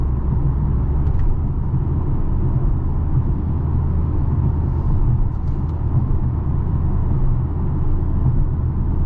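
A 2023 Mercedes-AMG GLA 45 engine drones steadily from inside the cabin while driving, a low continuous rumble with faint road noise and no talking.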